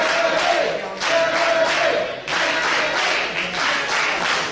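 A women's wrestling crowd roars and cheers for Kennedi Copeland and Rickey Shane Page, the loud, dense noise swelling in repeated waves with scattered clapping and shouts throughout.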